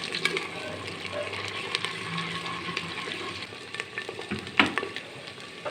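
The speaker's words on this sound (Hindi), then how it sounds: "अब इसमें मैं डालूँगा ये 3 टेबलस्पून अदरक लहसुन का पेस्ट है। थोड़ा सा फ्राई करना है।" Ginger garlic paste fries in a hot pan for keema aloo handi, giving a steady close sizzle with occasional stirring scrapes and a brief clatter near the end.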